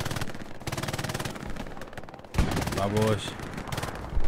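Gunfire in a shooter video game, rapid machine-gun bursts rattling steadily, then heavier shots, with a voice speaking over the fighting.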